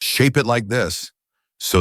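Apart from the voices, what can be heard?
No everyday noise stands out behind the speech.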